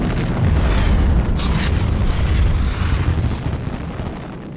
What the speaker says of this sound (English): There's this huge explosion.